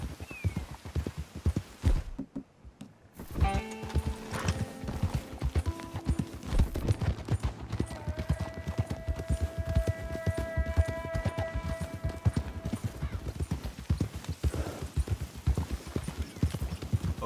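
Horse hooves clip-clopping steadily at a trot, fairly close, with occasional whinnies and a tonal music-like layer over a busy background, during a stagecoach robbery in the video game Red Dead Redemption 2.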